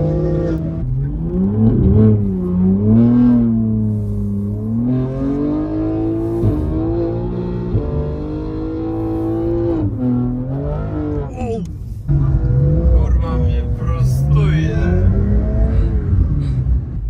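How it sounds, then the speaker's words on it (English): A sports car engine, a BMW M3 G80 or Porsche 992 GT3 drifting in snow, revs steadily and bounces against the rev limiter, loud and sustained from inside the car, with voices talking over it. "Rev limiter."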